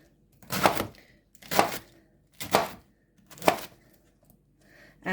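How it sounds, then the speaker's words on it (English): Knife chopping cabbage on a board for kimchi, four distinct evenly spaced thuds about a second apart, close and crisp with quiet pauses between. "I'm just going to chop all the rest of this cabbage up"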